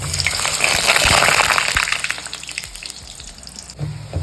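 Potato balls drop into hot oil, setting off a loud bubbling hiss and crackle that gradually settles into a softer fizz, heard close with no voices.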